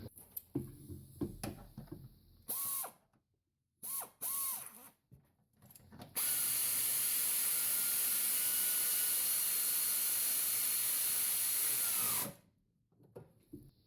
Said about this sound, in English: we can grab our 3/8 drive air ratchet and 5/8 socket and tighten it down